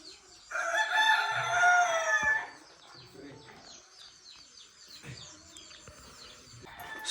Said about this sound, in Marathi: बघा मस्त सकाळी सकाळी कोंबड्या आरवत आहेत.